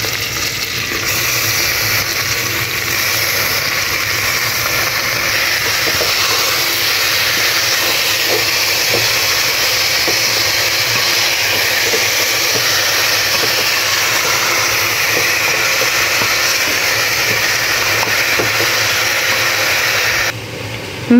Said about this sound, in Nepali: बेसार पनि हाले अब चाहिँ मासु हाल्छु